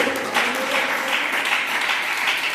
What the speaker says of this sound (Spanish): Dele ese aplauso, Reyes y Señores de Señores